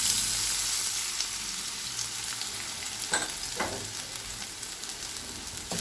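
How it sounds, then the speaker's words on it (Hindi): Chopped potatoes fry in hot cooking oil, giving a continuous close hiss and sizzle with a few soft scraping stirs midway. "ऑयल गर्म हो गया, अब इसमें कटे हुए आलू डाल देंगे।"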